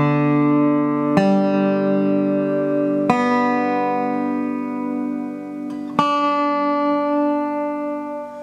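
Sustained resonator guitar chord rings while single strings are plucked three times at intervals during tuning, each note sharp and bright before decaying into the ringing drone.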